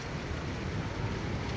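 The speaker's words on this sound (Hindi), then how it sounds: "बहुत तेज़ बारिश हो रही है," Heavy rain falls in Medina during Ramadan as a constant, dense hiss and rumble of downpour, fairly loud and unbroken, with no voices over it.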